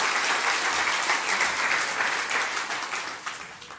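An audience bursts into steady applause for a Lego portrait of Ed Sheeran, dense clapping that stays full and then fades slightly toward the end.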